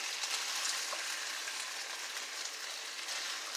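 Turkey hash sizzles steadily in bacon grease in a pan while being stirred, a close, even crackle of frying with faint scraping and no talking.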